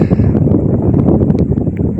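Strong wind in Argentina buffets and roars continuously, a heavy low rumble with gusty fluctuations, loud and close.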